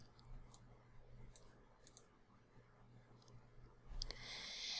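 Sharp mouse clicks from a computer mouse during an Adobe Illustrator lesson, several separate quiet clicks scattered over a faint background with a brief louder rustle near the end.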